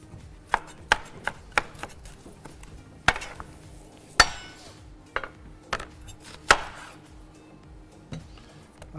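A knife coarsely chops onion and pepper on a board: about a dozen sharp, uneven thuds, some loud and close, with quieter scraping between them.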